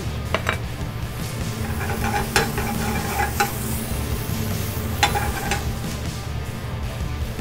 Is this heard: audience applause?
no